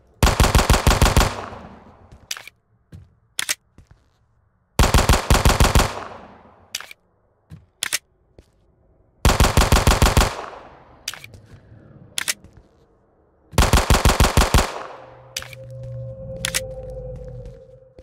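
Gunfire in the video game Who Knocks: loud, rapid bursts of automatic shots, four long volleys separated by gaps and scattered single cracks, with no talk over them.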